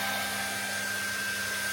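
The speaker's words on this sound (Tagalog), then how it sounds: "blower, blower" A pet blower dryer runs continuously while drying a dog after its bath, a steady loud whooshing roar with a constant high whine and no pauses or talk.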